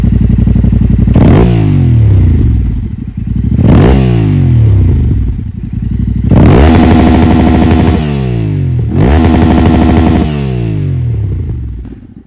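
A Yamaha Tenere 700 Rally with an Akrapovic exhaust revs hard in repeated loud bursts, each roaring up and then dropping back to a lumpy, crackling idle, close by, with no talking.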